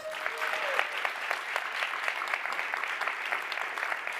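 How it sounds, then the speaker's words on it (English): Steady applause from an audience at a book talk, a dense continuous clatter of many hands at moderate distance with a faint voice briefly heard at the start. "Round of applause for that."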